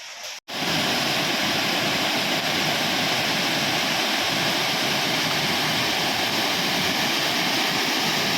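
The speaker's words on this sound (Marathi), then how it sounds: "हे बघा इकडे पूर" Floodwater of the Bharaja river rushes in a steady, dense roar during heavy monsoon rain in Mandangad, a continuous loud wash starting abruptly after a brief pause and holding unbroken throughout.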